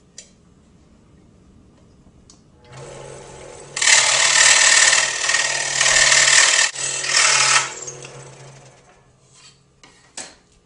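A saw cuts a thin strip of wood lengthwise in half, a loud steady buzzing rasp of about four seconds with brief dips, preceded by a quieter lead-in and followed by faint handling clicks.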